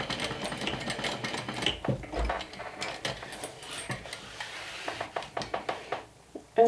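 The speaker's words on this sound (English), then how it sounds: "Just going to stitch this little corner here." A sewing machine stitches the corner of a slim sling bag, a busy mechanical whirr broken into short uneven bursts with small clicks and pauses, close and fairly quiet.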